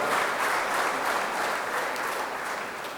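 Sustained audience applause fills the hall, dense and steady clapping from a large crowd with no voices over it, tapering slightly toward the end.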